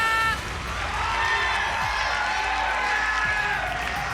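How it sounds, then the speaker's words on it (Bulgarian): A large audience applauds and cheers continuously, a dense wash of clapping and shouting that holds steady from start to finish. "Аплодисменти за Ралица Хайдърска"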